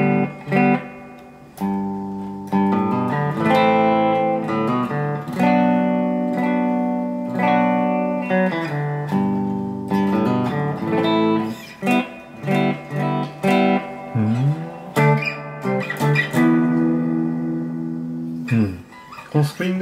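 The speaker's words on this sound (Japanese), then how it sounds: "このスプリングめっちゃいいですね。" Guitar run through a Strymon Flint reverb pedal on its spring setting, sustained chords and plucked notes trailing into lingering, slightly splashy reverb tails, played alone at moderate loudness.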